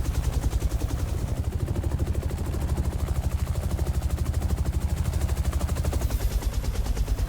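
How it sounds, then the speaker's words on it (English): Rapid, continuous gunfire from a mounted door gun on a UH-1 Huey helicopter in X-Plane 11, over a steady rotor thump, loud and close, with no talking. "We can fire the gun."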